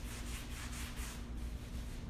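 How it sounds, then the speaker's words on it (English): A towel rubs paste wax into a wooden furniture surface, giving a steady, close, continuous scrubbing swish with rhythmic back-and-forth strokes and no talking. "put some wax on here, and I'm going to start rubbing it in"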